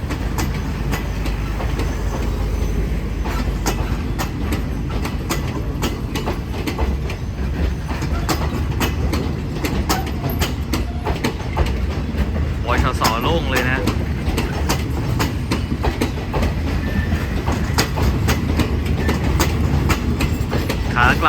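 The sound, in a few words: Thai SRT express train with Daewoo sleeper cars passing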